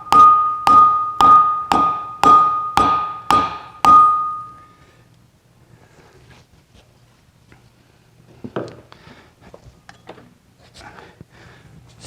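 Seven sharp, evenly spaced hammer blows ring out loud and metallic during repair work on a 1972 VW Karmann Ghia, then give way to near silence with a few faint clinks and rustles.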